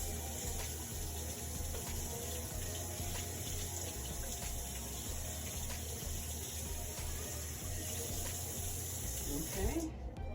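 Tap water running steadily into a sink to rinse a smoked turkey thigh, a soft, continuous hiss and splash with a low background hum, fairly faint throughout.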